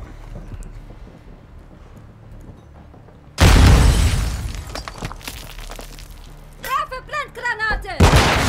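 A grenade bursts suddenly and loudly in Call of Duty: Modern Warfare II multiplayer, its blast decaying over a second or two, followed by a quick volley of gunfire and another sharp hit.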